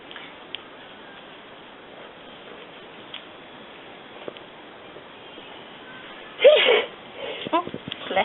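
A single short, sharp sneeze bursts out near the end during a medical induction and catheter placement procedure, loud against an otherwise quiet room with faint ticks.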